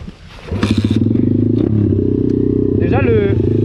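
Aprilia 125 RS Factory two-stroke motorcycle idling too high outdoors, a loud close buzzing idle with a brief rev blip, under a voice and a short whistling tone near the end.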